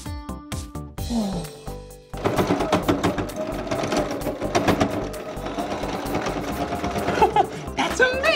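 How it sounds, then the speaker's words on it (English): A sewing machine stitches a Halloween costume with a fast, steady needle chatter that runs for several seconds beneath tonal background music, fairly loud and close, with no one talking. "the thread goes through the sewing machine and into the needle at the bottom"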